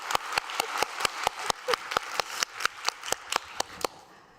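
A single pair of hands claps in a slow, even rhythm at a learning and innovation conference, about eighteen sharp, distinct claps, fairly quiet and clean with a slight room echo, slowing and stopping at the end.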